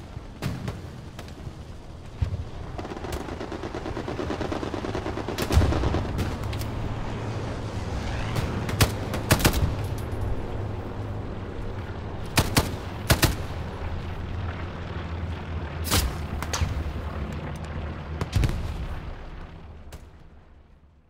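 Gunfire in the World War II shooter Hell Let Loose, heard as repeated sharp rifle shots and short bursts, some close and loud, others distant, over a constant rumble of battle.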